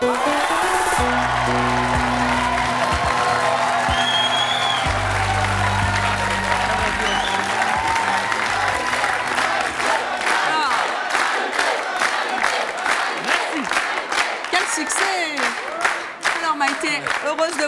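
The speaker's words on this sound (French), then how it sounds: "Je vous demande d'applaudir très très fort quelqu'un que vous adorez" A television studio audience applauds and cheers loudly for an arriving guest over background music, the clapping growing sharper and more distinct as the music drops away.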